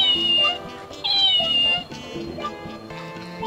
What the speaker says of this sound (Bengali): বাহ, কত সুন্দর বিড়াল, সাদা ধবধব করতেছে